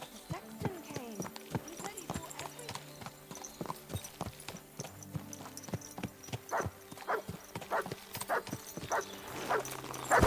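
Horse hooves clip-clop in the video game Kingdom Come Deliverance 2, a quiet, steady trotting rhythm of distinct hoof strikes that runs on through the whole stretch.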